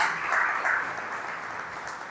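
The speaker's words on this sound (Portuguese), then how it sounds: "Pode dar uma linda salva de palmas a Jesus." A church congregation applauds steadily, a dense wash of clapping that swells briefly and then gradually fades.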